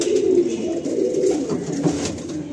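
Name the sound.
pigeons cooing in a loft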